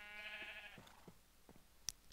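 A sheep in the video game Farm Hunt gives a short bleat near the start, followed by a few soft thumps and a brief sharp click, all fairly quiet with no speech.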